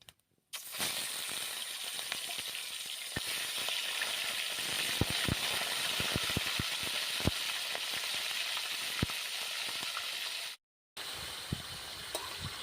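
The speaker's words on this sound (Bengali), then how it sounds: "ওর মধ্যে মাছগুলো দিয়ে দিচ্ছি" Pangas fish pieces fry in hot oil with bay leaves and cumin, a steady, bright sizzle with scattered crackles and pops, broken by a brief silent gap near the end.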